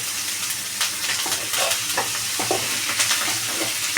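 Tomatoes fry in hot oil for a seasoned leftover-rice dish, with a steady close sizzle broken by scraping stirs of a spoon in the pan, and no talk.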